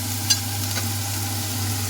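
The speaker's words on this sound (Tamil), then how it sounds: "நல்லெண்ணெய் நல்லா கொதிச்சுட்டு வெங்காயத்தை போடணும்." Onions fry in hot sesame oil for a fish curry, a steady close sizzle with a faint stir or two, alongside a constant low hum in the background and no talk.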